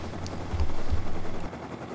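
Helicopter flying in the survival game Rust, a steady low rotor drone with a couple of heavier thumping pulses in the middle, fairly close and alone.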